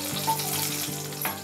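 Garlic and curry leaves tempering in hot oil give a steady close sizzle with a low hum underneath, in a short stretch with no talking.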